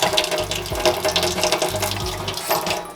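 Running tap water streams steadily over homemade butter being rinsed in a kitchen, close and continuous with no talking.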